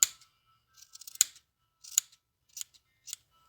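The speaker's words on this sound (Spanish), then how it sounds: "Ahora cortamos los hilitos para emparejar la borlita." Scissors make several quick, close snips through yarn threads as a crochet tassel is trimmed even. The cuts come one or two at a time with quiet gaps between them.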